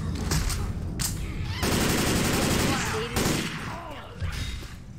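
Shotgun blasts tear into a horde of zombies in Left 4 Dead 2, loud repeated booming shots in quick bursts with dense crackling gunfire and game chaos throughout, muffled voices faintly underneath.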